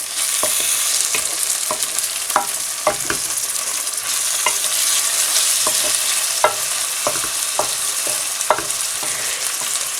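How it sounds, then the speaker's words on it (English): Ginger-garlic paste, cumin, cinnamon stick and cardamom sizzle steadily in hot oil in a pan while a utensil stirs with repeated scraping clicks. "Give it a mix."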